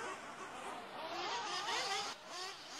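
Nitro off-road RC race cars at a national qualifying race whine and rev in high-pitched bursts, engine pitch rising and falling as cars speed past at moderate distance, several overlapping at once.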